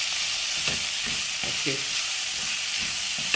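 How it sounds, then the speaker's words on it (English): Cooked beans, carrots and peas sizzle and fry in masala for vegetable upma, a steady close hiss with a few soft stirring scrapes; a voice briefly says a word. "So now drop the cooked vegetables into this."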